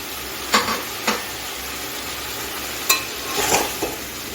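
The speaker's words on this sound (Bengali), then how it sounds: "এখন বেগুনটা দিয়ে দিচ্ছি" Eggplant is added to a pan and sautéed, a soft background sizzle broken by a few sharp spatula clanks and scrapes against the pan, heard close and alone.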